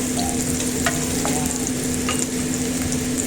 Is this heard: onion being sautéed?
yes